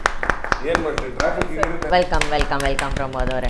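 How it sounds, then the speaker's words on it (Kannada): Brisk rhythmic clapping from a studio audience as a Kannada film team guest arrives on a television show, steady sharp claps running throughout while a presenter's voice speaks and calls out a greeting over them. "ಪ್ರಮೋದ್ ಶೆಟ್ಟಿಗೆ ದೊಡ್ಡ ಚಪ್ಪಾಳೆ"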